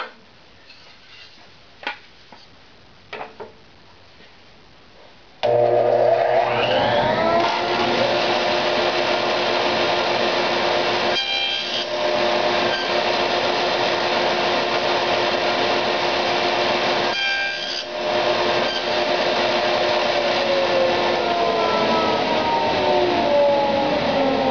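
A miter saw cutting small cove molding against a backer board: a few light clicks, then the motor spins up into a loud steady whine with a dip as the blade passes through the wood, twice pausing briefly before continuing.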